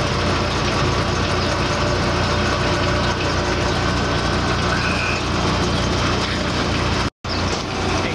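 Oliver 4800 gravity table separator running while its side tilt adjustment cylinder works, a loud constant mechanical rumble and rattle of machinery that fills the whole stretch, with only a brief gap near the end.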